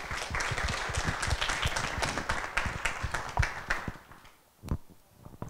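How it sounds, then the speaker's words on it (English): An audience at a university presidential lecture applauds a regent, close and crisp individual claps in a busy stream that dwindles after about four seconds, leaving a few scattered last claps. "How about a round of applause for Regent Herrero?"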